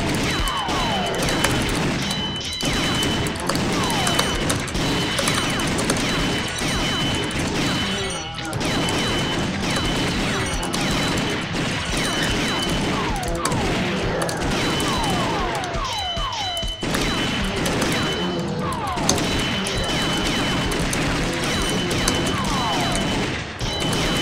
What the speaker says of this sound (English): Bam! Shotgun.